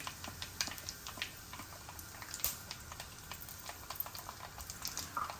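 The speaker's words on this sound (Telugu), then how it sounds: "చూసారా ఆవాలు చిక్ పట్టమంటున్నాయి" Mustard seeds, cumin and asafoetida spluttering in hot oil: quiet, irregular sharp pops and crackles over a soft sizzling bed, brief and close.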